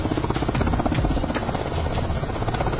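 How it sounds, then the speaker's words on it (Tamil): Rapid, steady rotor chop of a helicopter in flight pulses throughout, loud and close, with no voices. "பிரதமர் மோடி ஹெலிகாப்டர்ல பறந்து போனார்."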